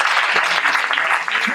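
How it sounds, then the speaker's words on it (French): An audience at a corporate plenary magic show claps for itself, a full burst of applause with murmured voices blended underneath. "Alors vous pouvez vous applaudir très fort."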